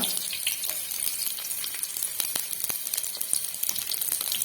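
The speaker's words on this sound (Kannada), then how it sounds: "ಎಣ್ಣೆ ಬೆಚ್ಚಾಂಡು ಮತ್ತೆ ಬೆಳ್ಳುಳ್ಳಿ ಪಾಡ್ಗ ಕಟ್ ಮಾಡಿನ ಶುಂಠಿ ಪಾಡೋನ್ಗ" Garlic and ginger sizzle in hot oil for a Mangalore-style chilli chicken, a steady crackling hiss with scattered sharp pops, close and continuous with no voices.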